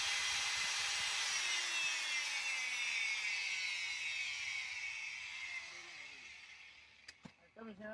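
Old 7- or 9-inch grinding machine running among salvaged ship hardware, a loud high whining grind that slowly winds down, followed by a few metallic knocks and clatters at the end; talking is heard.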